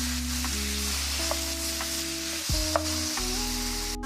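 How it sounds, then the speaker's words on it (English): Ground beef and veggies sizzle and fry in a pan with Worcestershire sauce while a spoon stirs them, a close, steady crackling hiss with a few scraping knocks. "You can add in your Worcestershire sauce. Go ahead and give that a mix."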